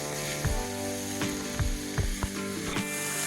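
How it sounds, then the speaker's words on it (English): Frozen hamburger meat sizzles in a hot skillet at a campsite, a steady frying hiss broken by several sharp clanks and scrapes of a utensil against the pan. "you can hear when the hamburger is sizzling, my pan is definitely hot enough"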